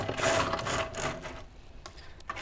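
A compartment partition sliding shut aboard an Azimut Magellano 66 yacht, giving a short, quiet run of rattling mechanical clicks that fades into a few faint taps.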